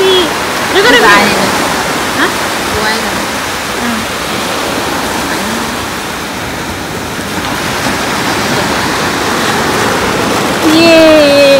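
Sea surf at Mandarmani beach, a loud continuous wash of breaking waves close by, with people talking and calling out over it.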